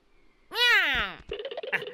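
A cartoon cat lets out one loud, drawn-out meow with a rising and falling pitch, followed by a shorter, choppier vocal sound.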